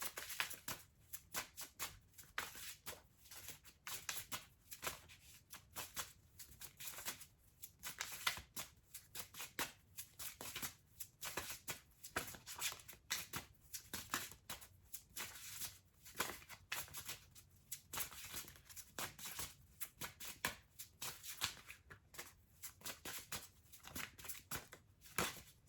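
Tarot cards shuffled steadily by hand for a long stretch, a continuous papery riffle and slap with rhythmic bursts, close and moderately quiet, with no voices.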